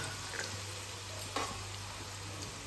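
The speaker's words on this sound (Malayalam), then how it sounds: "ഒരു ഉള്ളി ഒന്ന് നമുക്ക് ഈ ഇനി ഈ ചോറിന് വേണ്ടിയിട്ടൊന്ന് ഫ്രൈ ചെയ്തെടുക്കാം" Onion fries in oil to go with the rice of a Vadakara-style beef biryani. A faint, steady sizzling hiss continues with a low hum beneath it and one or two soft clicks.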